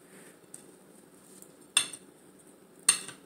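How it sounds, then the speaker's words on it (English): A spoon clinks twice against a bowl while no-bake energy bite ingredients are mixed, two sharp, close strikes over a quiet low hum. "So we're gonna mix it in until everything is evenly distributed."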